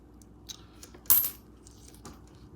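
Coins clink and drop during a hunt through rolls of pennies and quarters: a few light taps, then one sharp, bright metallic spill that rings and fades, with no talking.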